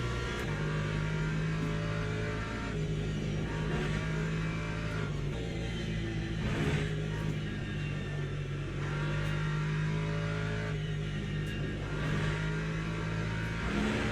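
Hypercars in Le Mans Ultimate roar past in a continuous racing-engine drone, with engine notes rising and falling as cars pass, steady and fairly loud throughout with no talking.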